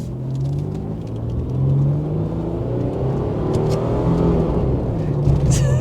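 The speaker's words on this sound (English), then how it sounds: "The V6 grumble is there though." The V6 engine of a Mitsubishi Pajero Evolution V55W grumbles steadily from inside the cabin, a low continuous rumble with slight swells as it rolls along, no talk over it.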